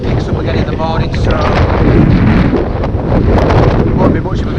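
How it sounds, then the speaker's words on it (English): Strong, cold December wind buffets a microphone on the North York Moors, a loud, continuous roaring rush with no letup and no speech. "it's very windy and very cold"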